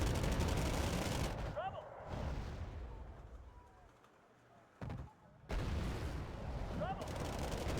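Video game battle with cannons and gunfire: bursts of loud distant shots and booms start and stop abruptly, with quieter stretches between, and a voice talks over the action.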